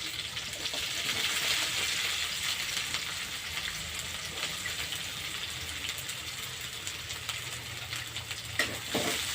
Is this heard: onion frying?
yes